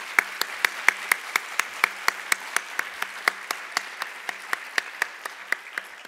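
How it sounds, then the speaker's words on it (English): Clapping for dancers at the 2021 Golden Apple Award ceremony comes in a steady, even beat of sharp claps, roughly four per second, continuing without a break for several seconds. "Please join me in giving another round of applause to our fabulous dancers."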